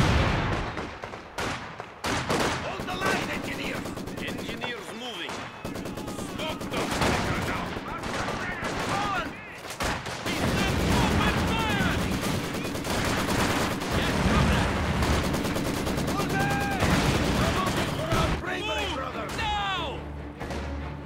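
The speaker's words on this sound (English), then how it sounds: "They can't shell us forever." Artillery shelling and gunfire rage in Company of Heroes 2, a World War II strategy game: dense, loud bursts of shots and heavy blasts run almost continuously, with in-game voices heard among the combat.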